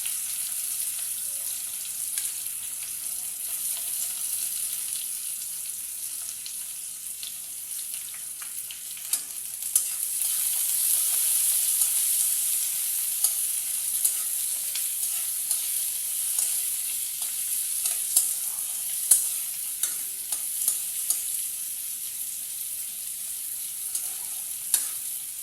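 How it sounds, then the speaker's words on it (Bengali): Chopped onions fry in hot oil with a bay leaf for mutton kosha, giving a continuous, bright, hissing sizzle with scattered small pops and crackles throughout. "এখন পেঁয়াজগুলোকে অল্প লাল হওয়ার জন্য রেখে দেব।"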